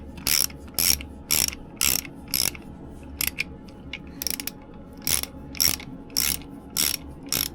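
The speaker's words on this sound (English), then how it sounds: "I have to undo these little bolts here." A ratchet undoes small bolts on a Beta Marine 30hp diesel engine, with repeated bursts of sharp, close clicking separated by short pauses, alone without talk.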